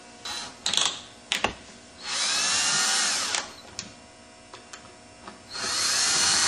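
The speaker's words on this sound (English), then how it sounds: "Set the electric screwdriver on the lowest torque setting" Electric screwdriver set to its lowest torque drives screws during a YFZ crank install, with several short whirring bursts and longer steady runs between clicks and small handling noises, all close up.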